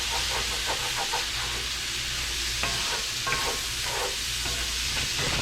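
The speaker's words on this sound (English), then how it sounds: "And we are going to go ahead and let that fry up a little bit. Wake up the spices." Spices frying in oil in a pan for okra stew, a steady close sizzle and hiss with occasional soft stirring scrapes, continuous and fairly loud throughout with no talking.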